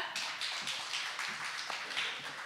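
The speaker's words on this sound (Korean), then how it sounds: "여러분 다시 한번 응원의 큰 박수 부탁드립니다." Audience applause at a televised health talk show, brisk, dense clapping from a crowd, steady and fairly close, with no one speaking over it.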